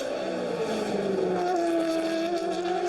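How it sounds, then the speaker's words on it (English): A GP2 race car screams past at Monaco, its high engine note rising and then sliding downward as it passes close by, loud and continuous, with no other sound over it. "next time Lewis Hamilton flies past the flag stand"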